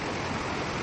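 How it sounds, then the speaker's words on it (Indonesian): Gurgling water of the Kali Gede river at the eastern edge of a chicken-rearing farm, a steady broadband rush that fills the whole moment without a break, close and fairly loud. "Kalau kalian dengar, di sini ada suara gemericik air."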